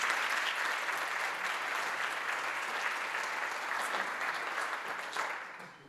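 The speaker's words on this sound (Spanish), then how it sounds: "Fuerte aplauso para Diego" An audience at a cybersecurity round-table panel applauds a speaker, steady dense clapping that holds evenly for several seconds before tapering slightly at the end.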